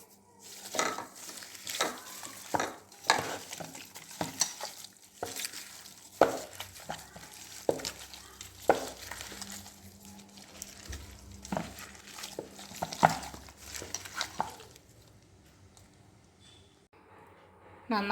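Mutton stew dough mixture being kneaded by hand without added water, with repeated soft slaps and squelches in an irregular rhythm, close and fairly quiet, plus occasional clinks against the bowl.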